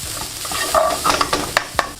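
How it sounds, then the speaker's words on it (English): Onions and garlic cooking in a pan for spaghetti bolognese, a close, steady sizzle punctuated by a few sharp scrapes and taps of a spoon stirring the pan, with no talking. "just cook this for another 2 minutes until our onions are caramelized and our garlic is caramelized in there"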